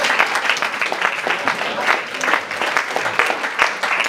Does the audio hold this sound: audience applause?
yes